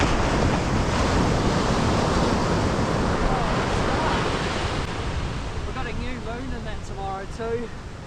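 Surf rolling onto a Perth beach on an incoming morning tide, a broad constant wash of breaking waves mixed with wind buffeting the microphone, while a voice speaks over it toward the end.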